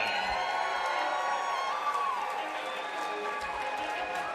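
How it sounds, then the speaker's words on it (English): A crowd inside the Biloxi Civic Center cheers steadily for a fighter's entrance at a combat sports event, a dense, continuous roar with scattered shouts and no talk over it. "The crowd inside the Biloxi Civic Center coming alive for Harris Stephenson"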